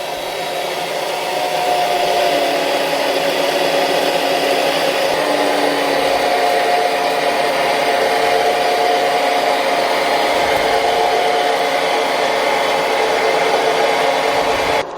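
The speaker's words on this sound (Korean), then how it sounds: "기계를 작동하신 다음 오일이 충분히 나오게끔 닫아주시고, 자, 이제 탭을 내보겠습니다." A pipe threading machine cutting a 1-inch thread on pipe, with cutting oil flowing, runs as a loud, steady mechanical whir and grinding drone that holds unbroken for the full length, close by.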